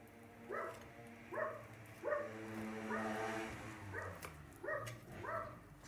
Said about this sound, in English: I'm sure you can hear the neighbor's dog